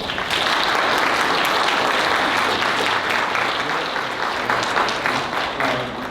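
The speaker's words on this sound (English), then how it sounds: "Please give a round of applause to our panel members." Audience applause for the panel members at the close of a North Carolina H-2A foreign labor program training event, sustained and even throughout, fairly loud and dense with many hands.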